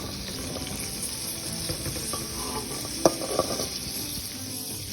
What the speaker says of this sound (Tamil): குடமிளகாவை இதில் நல்லா போட்டு நல்லா வதக்குங்க